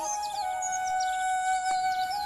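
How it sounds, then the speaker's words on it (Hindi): Cartoon bird chirping: a series of quick, bright tweets and short descending chirps over a steady electronic tone, moderately close, with no voices. "वहीं पर चिड़िया की आवाज सुनाई देती है"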